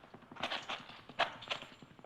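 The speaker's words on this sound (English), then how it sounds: "Horses, they're riding off." Horses ridden away at night in a dry gulch, hooves clip-clopping in an uneven run of hoofbeats, moderately close and fading, with no talk over them.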